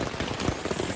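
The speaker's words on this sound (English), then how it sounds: "it is raining, pouring" Heavy rain pours onto a tent during an Appalachian Trail thru-hike, a dense continuous drumming patter heard from inside, close and even throughout.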